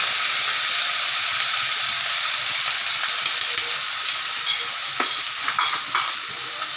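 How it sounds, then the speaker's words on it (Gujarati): Green onions tempered in hot oil with mustard seeds, cumin, garlic and asafoetida for a Kathiyawadi green onion and gathiya curry, giving a steady loud sizzle throughout with a few stirring scrapes near the end. "ડાયરેક્ટ ડુંગળીનો વઘાર કરી દઈશું।"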